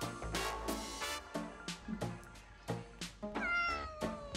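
House cat meowing indoors, a string of close, repeated meows and chirps in quick succession, fairly quiet overall.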